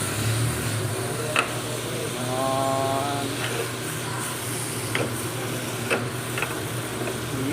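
Sisig tokwa, a fried tofu dish, sizzles steadily on a hot plate, a continuous frying hiss punctuated by occasional stirring clicks and scrapes.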